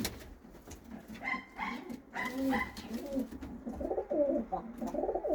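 Domestic pigeons coo close by in a series of soft, low, throaty calls. The calls come in short repeated bursts with quiet gaps between them.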